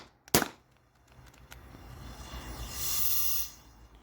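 A Beeman air pistol fires a single sharp, loud crack over a chronograph, followed by a quieter hiss and faint rustling.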